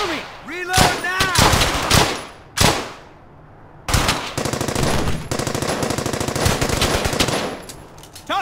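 Loud, rapid machine-gun bursts and rifle fire from the World War II shooter Brothers in Arms: Hell's Highway, covering fire in close sustained volleys with a short lull, and a voice calling out early on.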